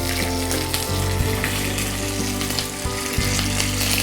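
Dried red chillies and curry leaves fry in hot oil, a steady, loud, close sizzle that continues unbroken throughout, with no voices.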